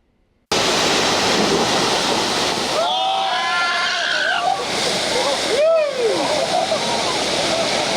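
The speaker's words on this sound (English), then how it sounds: "The town has installed its very own whitewater rafting in Lazy River." Whitewater rushes in a steady, loud roar at a whitewater rafting lazy river attraction in Norfolk, Nebraska, with people's voices carrying over the flowing water.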